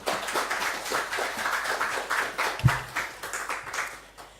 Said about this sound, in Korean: 나오실 때 뜨겁게 박수로 시작해 주시겠습니다